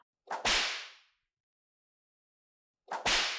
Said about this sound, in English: This is gonna get 2 whips right here